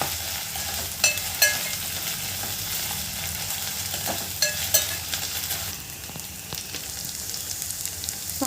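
Ginger garlic paste and cowpeas frying in a pan, a steady close sizzle with sharp clinks and scrapes of stirring throughout, no talk.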